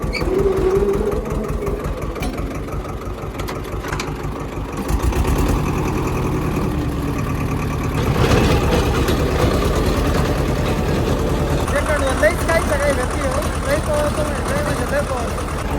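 A farm tractor's diesel engine runs steadily throughout, loud and close, with a rhythmic chugging idle that shifts in pitch and load, while someone talks over it.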